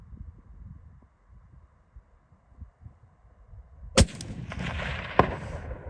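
Seekins Element M3 rifle chambered in .300 Win Mag fires a single sharp, loud report outdoors, followed by a long rumbling echo and a faint distant impact, after quiet low handling noises.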